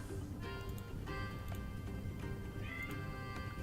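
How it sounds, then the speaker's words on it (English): A pet cat named Fidget meows a few times indoors, faint against a steady background hum with occasional ticking and no speech. "You meow at me."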